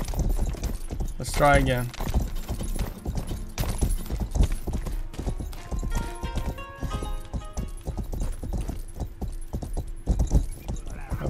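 Horse hooves clip-clop in the Rustler video game, a quick rhythmic trot under a man's speech, with a brief whinny near the start and jangling tack through the passage.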